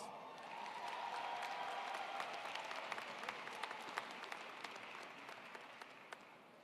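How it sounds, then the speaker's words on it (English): Audience applause at a fall university commencement ceremony at Virginia State University, a steady wash of many hands clapping from a large crowd, swelling in and then thinning out with a few louder individual claps near the end. "Let's give them another round of applause."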